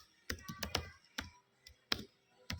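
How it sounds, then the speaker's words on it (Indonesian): Fingers tap out a command on a computer keyboard in a short, uneven burst of quiet, crisp key clicks with small gaps between strokes. "di command window-nya kita langsung ketik VL"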